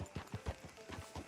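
Horse hooves clip-clop in a steady, even rhythm through a frontier town in Red Dead Redemption 2, fairly faint and alone with no voices.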